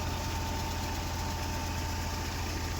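A steady, droning tractor engine idles continuously with a low, even rumble and constant vibration, close by and unchanging throughout.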